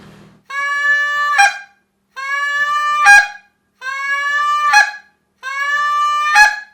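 A short reed honker goose call imitates a Canada goose: four evenly spaced calls, each a long, loud, harmonic moan ending in a sharp cluck, with brief silences between them.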